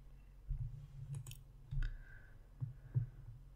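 A computer mouse clicks inside Power Query, with several sharp, faint clicks spaced irregularly over a quiet background and no talking.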